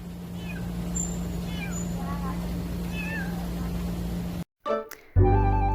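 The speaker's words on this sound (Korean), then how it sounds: "아기 고양이는 심지어 병아리처럼 울어요" Several thin, high-pitched kitten mews, chirpy and bird-like like a chick's peeping, repeat over a steady low hum, followed by brief clunks and noise at the end.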